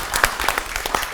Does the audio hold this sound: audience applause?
yes